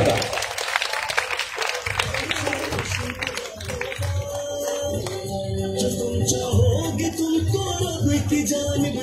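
A crowd applauds at a Pakistani welfare gala, with crisp clapping filling the first few seconds before it thins under music and a voice on stage.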